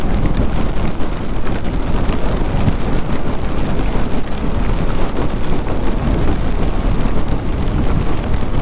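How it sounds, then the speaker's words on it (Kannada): Monsoon rain near a mangrove forest in Honnavar, a loud, dense, continuous hiss and patter with no break. "ಬರ್ರಿ ಮಳೆ ಸ್ಟಾರ್ಟ್ ಆಯಿತು"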